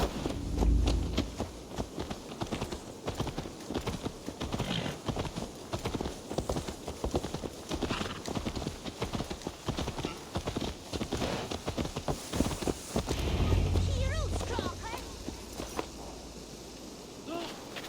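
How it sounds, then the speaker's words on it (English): Steady clip-clop of horse hooves at a walking pace in the video game Assassin's Creed Valhalla, rhythmic and continuous, with a low hum and faint voices underneath. "Let's return the horse."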